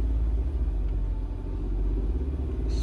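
A 2008 Jeep Wrangler engine runs with a steady low rumble, idling near 2000 RPM with a slight rise at the end, close by with no talk.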